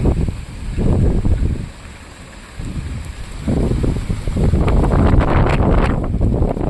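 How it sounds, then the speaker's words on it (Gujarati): Loud, strong wind with rain roars and batters the microphone in heavy surges, with rustling mixed in throughout, in Porbandar. "પવન બહુ તેજ છે"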